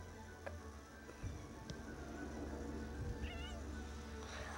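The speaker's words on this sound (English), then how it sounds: "I just like hearing the meow." A pet cat named Lucy meows several times, close by and fairly faint, with short separate calls spread through a quiet room.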